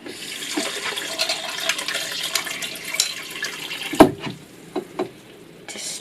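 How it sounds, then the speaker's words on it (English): Sticky rice is rinsed under cold tap water, with running water and wet splashing over grains in a container, nearby, plus a sharp knock and a few clinks partway through. "drain and rinse with the cold water"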